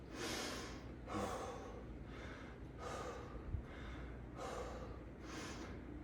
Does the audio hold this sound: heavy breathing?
yes